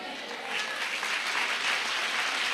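Church congregation applauding during a women's service led by a pastor, a dense steady wash of clapping that holds evenly throughout at moderate loudness, with no pauses.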